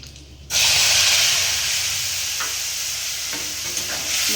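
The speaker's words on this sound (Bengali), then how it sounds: "মশলাটা মানে তেলের মধ্যে দিয়ে দিলাম।" Ginger and green chilli paste seasoned with salt and turmeric drops into hot oil for a papaya dal and bursts into a loud, steady sizzle that fills the clip after a brief quiet start.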